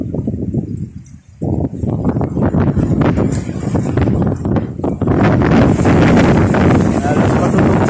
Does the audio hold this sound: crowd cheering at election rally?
no